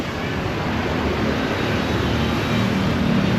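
Steady low rumble of a bus engine and road noise from inside a bus heading to the Kanakadurga temple in Vijayawada, a continuous broadband drone with no break, fairly loud and close.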